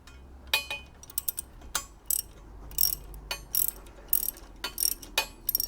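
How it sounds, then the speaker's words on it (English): A small ratchet wrench tightens a crash bar bolt on a BMW R1200R engine, giving off close, crisp clicking bursts in an uneven rhythm with short pauses. "I might use my little wrench just to start it up a bit."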